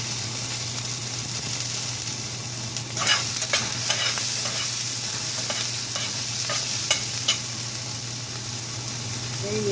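Bean sprouts and tomatoes sizzle steadily in a hot pan, with a series of scraping stirs from a utensil, close and continuous, with a faint voice in the background.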